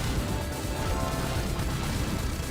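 A super blast explosion in the Arcade Blasters video game, a dense, loud crashing burst that sustains as a rough roar for a couple of seconds.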